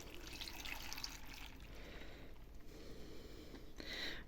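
Half a litre of water pours into a large two-bucket pot for apple jam, a steady wet splashing and trickling that runs throughout, fairly close and moderate in level, with no talking.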